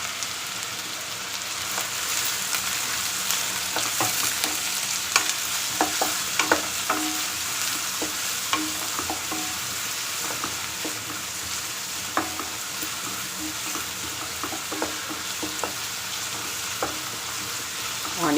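Onions fry in a pan for a green pea and potato curry, a steady close sizzle broken by repeated scraping clicks of a spoon stirring, with no talk.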